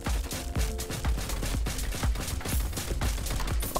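Rapid repeated weapon fire from an egg launcher in the Roblox game Flag Wars, a steady stream of close, loud cartoonish shots with no talking.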